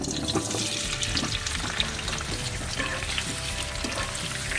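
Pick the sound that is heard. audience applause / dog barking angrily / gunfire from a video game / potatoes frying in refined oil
potatoes frying in refined oil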